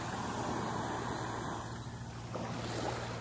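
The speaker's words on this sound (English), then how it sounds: "Sometimes the waves are get a little vicious, but today the waves are okay." Ocean waves wash steadily on a calm day, a continuous broad rushing surf with some wind, moderately loud and without any voices.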